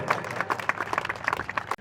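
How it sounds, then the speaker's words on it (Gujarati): Brief burst of audience clapping at a Shri Meldi Mataji temple foundation-stone ceremony in Nandgam, a quick patter of many hands applauding together for a short moment. "એકવાર જોરદાર તાળી જોઈએ અમારા રાહુલભાઈ માટે"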